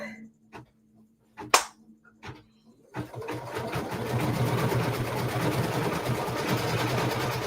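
An embroidery machine begins stitching out a winter tree quilt block, starting after a few scattered clicks and taps with a fast, steady mechanical chatter of the needle that holds close and even to the end.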